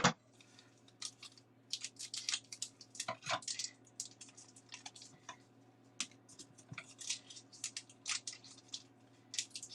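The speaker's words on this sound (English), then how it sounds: "Use the scissors." Scissors snip through plastic cheese packaging in a home kitchen, giving a run of short, crisp cuts and crinkles at close range with no talk over them.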